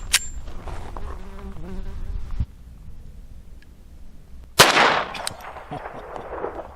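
A Hammerli 1911 pistol chambered in .22 LR is fired at an outdoor range at a target 25 yards away. Two sharp, isolated cracks sound, one at the very start and one several seconds later, with faint insect buzzing between them.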